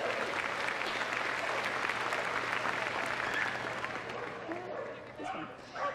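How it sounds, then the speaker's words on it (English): Spectators at the Crufts 2014 rescue dog agility show give a round of applause, a moderate crowd clapping that fades out near the end, with a low hum and some voices heard underneath. "Let's give her a round of applause, everyone."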